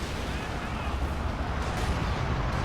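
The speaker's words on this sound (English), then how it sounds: "Nice incendiary barrage by that walking Stuka." Walking Stuka rocket artillery firing an incendiary barrage in the game Company of Heroes 2, a dense continuous rumble of blasts and crackling fire with no pause, loud and close throughout.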